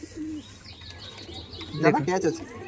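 A Madras flying pigeon coos softly and briefly at close range amid background murmur, followed by a louder burst of voice-like calling.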